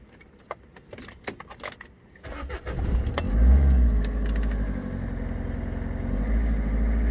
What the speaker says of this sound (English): So if I start the engine up